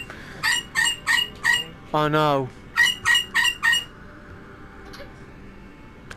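A nearby hen squawks and clucks in loud, repeated bursts: four sharp calls, then one longer drawn-out squawk, then four more, followed by a quieter stretch with a brief spoken remark.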